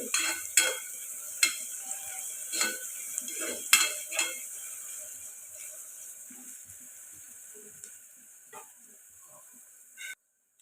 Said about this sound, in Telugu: ఉల్లిపాయలు ఇలా మగ్గుతున్నాయి కదండి ఫ్రై అవుతాను